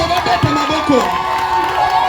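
A church congregation at an evangelistic campaign shouts and cheers in acclamation, a close, loud mix of voices with crowd noise rising and falling briefly.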